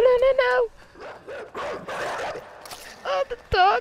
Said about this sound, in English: Oh, the dog got me.